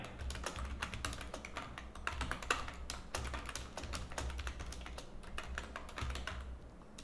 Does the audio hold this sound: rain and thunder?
no